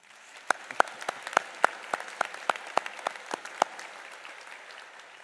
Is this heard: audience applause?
yes